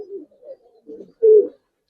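Pigeons, Giribaz coloring birds kept by a breeder in Bangladesh, coo in short low throaty bursts, a few soft murmurs building to one louder, fuller coo near the end, close by with no talk.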